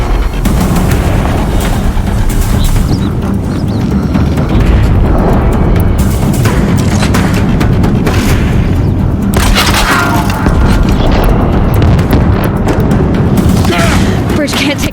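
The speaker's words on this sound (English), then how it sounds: "If the Deathbringers keep firing," Heavy machine fire and booming explosions pound a bridge in Horizon Zero Dawn as Deathbringer machines attack, a dense, loud and continuous barrage of cracks and blasts with no pauses.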